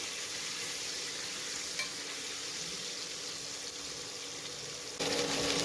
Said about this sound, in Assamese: এয়া মাছৰ মূৰ কেইডোখৰ তেলত ভাজি লৈছোঁ।